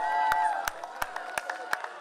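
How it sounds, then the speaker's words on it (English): Scattered clapping from a Miss Gambia pageant audience, with a few distinct claps spaced out over a hum of voices and a faint tone in the background. "Please give all of them a round of applause."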